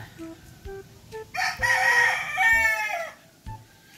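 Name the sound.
young gamecock rooster crowing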